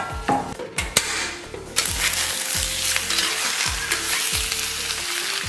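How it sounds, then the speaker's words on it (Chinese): Pork belly slices sizzle and spit in a hot pan as the fat renders, a dense steady frying hiss with a few low knocks and stirring scrapes. "首先咱们把这个5花放到锅中，给它煸出油脂"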